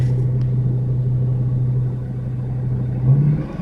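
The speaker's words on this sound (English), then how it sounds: "push this down, pull it back, and the dump body goes up" A Cat CT660 dump truck engine runs in a steady, loud, low drone while the dump body is raised, swelling briefly near the end with no voices.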